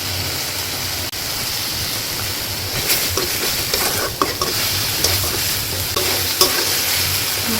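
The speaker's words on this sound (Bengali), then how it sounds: "মশলাটা কষানো হয়।" Spice masala of chili powder, coriander powder and ground cumin fries loudly in a pan for a fish curry, a dense continuous sizzle with scraping stir strokes growing busier toward the end.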